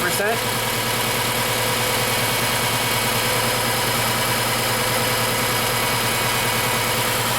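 A Subaru engine holds a steady, elevated idle with a constant mechanical hum and light vibration, continuous and close throughout.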